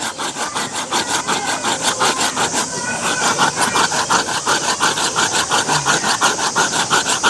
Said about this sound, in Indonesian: Ya, itu manfaat gergaji kecil.